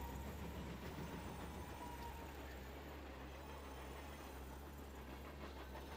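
A train in the Sega Saturn game Vandal Hearts gives off a steady, low rumbling drone with a faint mechanical rattle, constant and unbroken for the whole stretch.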